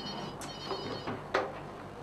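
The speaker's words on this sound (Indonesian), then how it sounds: "telepon" A telephone rings indoors, short electronic trills repeating a few times at moderate distance over faint background noise.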